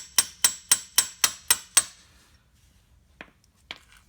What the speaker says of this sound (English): I don't think pounding on a piece of tool steel is the brightest idea